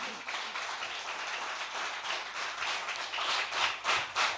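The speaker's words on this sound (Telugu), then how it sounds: "గట్టిగా చప్పట్లు కొట్టు" A church congregation at a Telugu prayer service claps loudly, steady broadband clapping that swells into stronger rhythmic bursts toward the end, with no voices over it.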